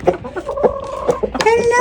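Chickens cluck at a door in short, close bursts, with a few higher calls toward the end.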